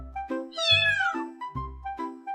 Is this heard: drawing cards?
no